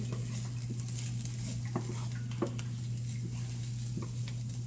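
Onions frying in a pan for a mustard chicken dish, a steady close sizzle with a constant low hum beneath and a few light clicks of stirring scattered throughout, no voices.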